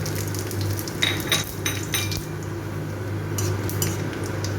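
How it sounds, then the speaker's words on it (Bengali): Bay leaf, white cumin and a dried red chilli fry in hot oil, a soft continuous sizzle with a few crackling spits and light utensil clinks, no voices. "এবার এই তেলটার মধ্যে একটা তেজপাতা, একটু সাদা জিরা আর একটা শুকনো লঙ্কা ফোড়ন দিয়ে দেবো।"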